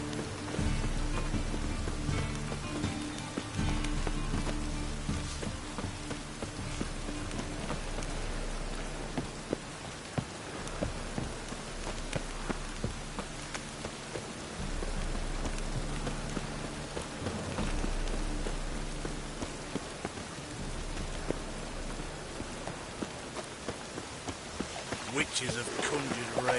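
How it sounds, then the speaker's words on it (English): Steady rain patters through a night in The Witcher 3: Wild Hunt, a downpour conjured by witches, a dense wash of drops hissing across surfaces with a low rumble under it, the drumming continuous and fairly loud throughout. "Witches have conjured rain."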